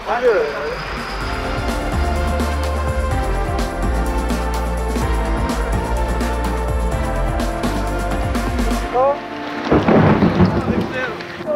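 A thunderstorm with rain and hail in Sweden, with a dense steady roar of heavy rain and hail over a deep rumble of thunder that continues loud and close throughout, easing near the end as a burst of other noise comes in.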